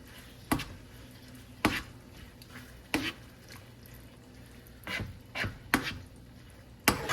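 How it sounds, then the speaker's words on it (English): Melting cheese stirred in a pan over low heat, with a quiet background and a handful of distinct soft scrapes and knocks of a utensil against the pan at irregular intervals. "you're just going to leave this on low and keep stirring until all this cheese has melted"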